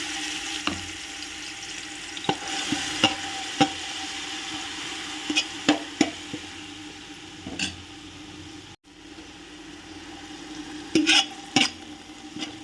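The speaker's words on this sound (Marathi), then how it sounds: "आपण पाण्याला फोडणी देणार आहे" Hot oil crackling and sizzling softly as green chillies are tempered, under scattered metallic clinks and stirring taps, close by with no speech.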